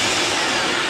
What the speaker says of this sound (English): Got our vacuum running.